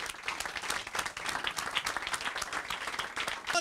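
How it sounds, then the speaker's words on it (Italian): Warm audience applause at a polenta festival (Sagra della Polenta) in Treia, a steady crowd of many hands clapping continuously, moderately distant and fairly quiet, with no talk over it. "Un applauso di cuore."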